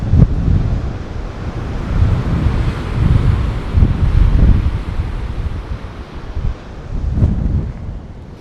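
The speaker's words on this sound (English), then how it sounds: "That wind is very strong." Strong gale-force wind blasts across the microphone on a coastal hike while rough sea waves crash and surge below, a loud, unbroken roar rising and falling in heavy pulses with no talking.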